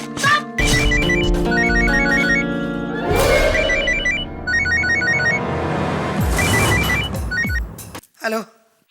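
A telephone rings in repeated bursts of trilling tones over dramatic background music in a Hindi courtroom TV drama, with a brief voice near the end.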